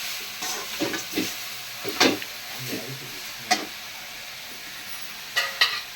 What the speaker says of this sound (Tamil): தேங்காயை தனியாக வதக்கிறோம்